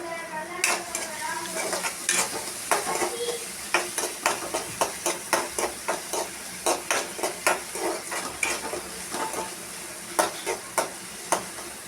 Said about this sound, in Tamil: தக்காளி நல்லா சுருளை வதங்கணுங்க